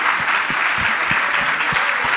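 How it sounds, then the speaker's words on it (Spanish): A theatre audience claps steadily for a couple of seconds, a dense, even wash of hands that stays loud and close with no break. "El aplauso para nosotros."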